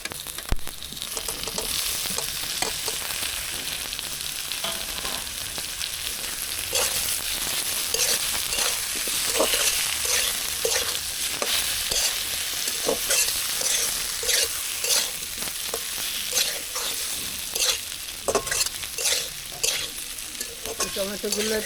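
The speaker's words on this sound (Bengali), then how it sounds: "আমার মশলা ভাজা হয়ে গেছে, এখন কেটে রাখা টমেটোগুলো দিয়ে দেবো।" Chopped tomatoes sizzle in a pan over spices fried with cumin and coriander, with a continuous close hiss broken by repeated scraping strokes of a spatula as the mixture is stirred.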